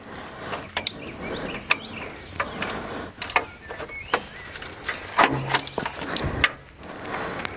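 A wrench ratchets on a stuck excavator part among trees, close clicking and clanking taps in uneven bursts over a soft outdoor background.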